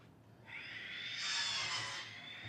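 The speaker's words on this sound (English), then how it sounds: "Sorry about the noise, there's some sawing going on." A steady, high-pitched buzzing whine of sawing in the background outdoors near old lime kilns, rising in intensity midway and then easing off, with a low rumble underneath.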